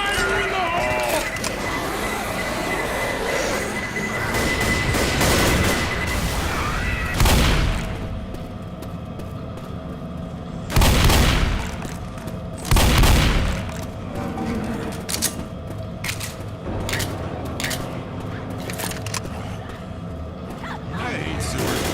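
A thrown explosive detonates in the Left 4 Dead video game, a few heavy booms and bursts landing in separate moments amid gunfire, with characters talking over the action.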